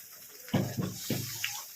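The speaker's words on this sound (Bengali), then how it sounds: "এখন দিয়ে দেবো গরম জল।" Hot water pours into a pot of home-cooked vegetarian chhana curry with fried chhana balls. It makes a few short gushing splashes close by, with no talk.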